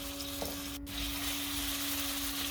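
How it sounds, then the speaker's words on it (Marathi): Green chilli and coriander paste sizzles in hot oil in a wok, a steady close hiss of frying with a faint hum beneath and one brief clink. "कढईमध्ये 4 चमचे तेल घेतलं आहे, त्यामध्ये ही वाटलेली पेस्ट घालून थोडीशी काही सेकंद परतून घ्यायची आहे."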